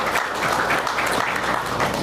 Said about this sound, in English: students, you can give your parents a round of applause.